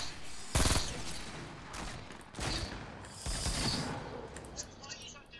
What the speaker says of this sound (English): And I'm shooting from where I was.